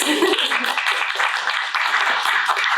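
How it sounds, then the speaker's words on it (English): An audience at a talk event claps in a dense, steady burst lasting a few seconds, fairly close and loud, with a hint of voices mixed in. "Let's clap for that."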